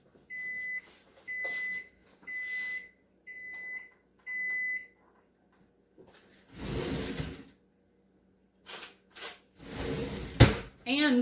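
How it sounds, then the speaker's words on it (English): A kitchen timer beeps in a steady repeating pattern of short high electronic tones, five evenly spaced bursts near and clear, followed by louder kitchen clatter and handling noises during lemon meringue pie baking. "And my timer just went off, so I've got to check my pie crust."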